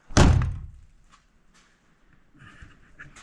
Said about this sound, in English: Did some welding to the door frame itself, so now the doors open and close just as they should.